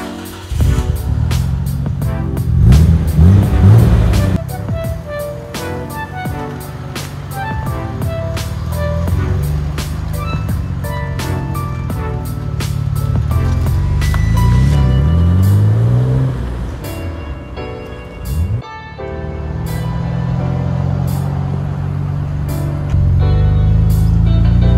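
A Bayside Blue Nissan Skyline GT-R R34 drives on a road in Japan. The engine hums loudly and steadily from inside the car, with rising revs as it accelerates and brief dips at the gear changes.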